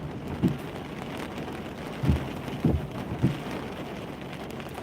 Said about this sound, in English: It's just going to be a little bit heavier rain.